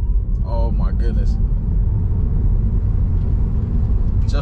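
A Tesla Model 3 Standard Range Plus electric car pulls away and accelerates, heard from inside the cabin as a steady low road and motor rumble. A person briefly talks over it at the start.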